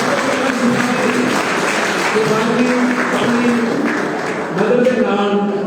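Steady applause rings out at a school result declaration and prize distribution ceremony, continuous hand clapping from an audience filling the whole stretch with a brief dip near the end.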